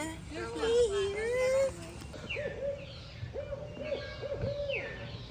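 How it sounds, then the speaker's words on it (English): One owl hoots repeatedly at night at a campsite on Wellesley Island, clear and moderately close. The hoots follow a stretch of people talking near the start. "I think it's only one owl."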